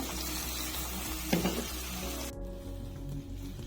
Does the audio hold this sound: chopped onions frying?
yes